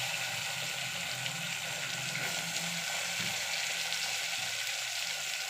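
Onions sauté in a pan with added mint and coriander for a vegetable biryani, giving a steady, close, even sizzle and frying hiss with no talking over it.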